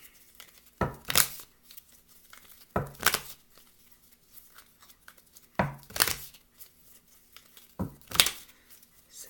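A deck of tarot cards is shuffled by hand in four separate bursts of crisp riffling and snapping, with quiet pauses between them and no talking.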